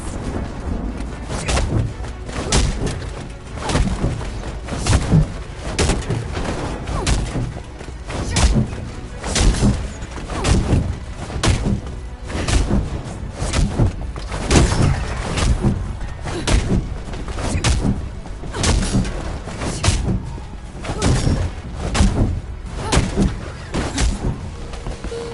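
Repeated grenade blasts and heavy thuds in Marvel's Avengers combat, a steady run of loud booming impacts spaced every second or so across the whole stretch, dense and close.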